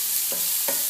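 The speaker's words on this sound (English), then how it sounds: "So I'm just going to saute this fennel up." Fennel and green beans sauteing in a cast iron skillet give a soft steady sizzle, with two brief stirring scrapes from a wooden spoon, heard up close.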